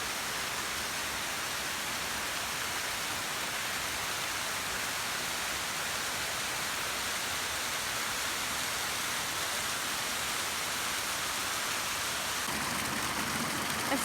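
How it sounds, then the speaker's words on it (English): A stream runs near a steep woodland hiking trail in autumn, a steady, even rush of water filling the whole stretch without a break. "You can hear the running water."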